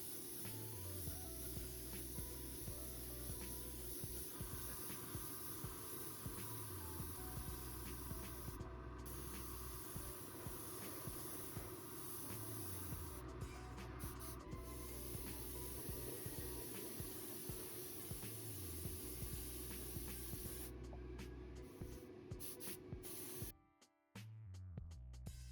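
An airbrush sprays paint onto parts of a 1/20 Tamiya Jordan 191 scale model car. It makes a steady, soft, continuous hiss that carries on at an even level, with a brief break and cutoff near the end.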